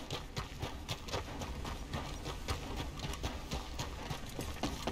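Horse hooves clop steadily in Red Dead Redemption 2, a fast, continuous rhythmic beat over a dense, rumbling game soundscape, moderately loud and without speech.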